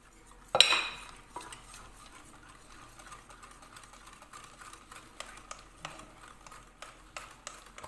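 Eggs whisked into crepe batter in a bowl: one sharp knock, then a steady run of light, rapid clinks and taps from the whisk, fairly quiet and with no voices.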